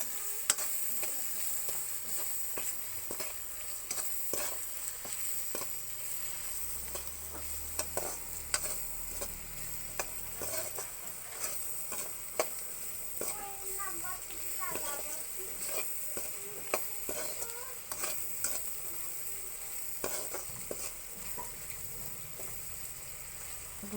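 Spiced masala frying in a pan for Assamese kosu bao curry, with a continuous close sizzle and frequent irregular scraping clicks of stirring throughout.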